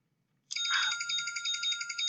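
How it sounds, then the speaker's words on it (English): A bright electronic alarm starts abruptly and rings on continuously in a fast, trilling pulse, fairly close and clear with no voices. "That's the alarm going off."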